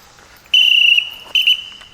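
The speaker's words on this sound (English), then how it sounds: "then I'll pitch her the whistle to call him back" A shrill whistle blown to recall a dog during obedience training sounds in two bursts, a long blast followed by a shorter one, loud and close.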